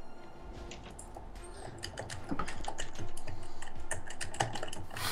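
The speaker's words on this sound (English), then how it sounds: "Oh, I hear that super typing." Rapid, uneven clicking of computer keyboard keys runs throughout, quiet at first and then a bit louder and denser, with no talking over it.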